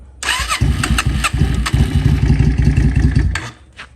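A Yamaha Dragstar 400 Custom motorcycle with a Japanese exhaust cranks and catches, then settles into a loud, steady, soft burbling idle nearby before cutting off at the end.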